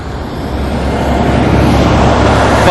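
Trucks and road traffic rumble past near Auckland Airport, a steady broadband wash of engine and tyre noise that swells slightly louder toward the end, with no talking.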